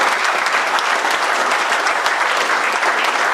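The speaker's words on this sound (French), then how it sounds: "Des gens comme Sarvé, Alphonsine, que je vous demande d'applaudir fortement aussi." Sustained loud applause from an audience at a French-language rally, dense continuous clapping throughout with no voices on top.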